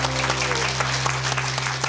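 A crowd claps steadily in a dense burst of applause, loud and close, with a low hum underneath.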